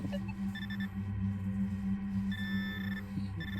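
A Minelab Equinox 900 metal detector sweeping a field, giving repeated short electronic beep tones in bursts over a steady low hum.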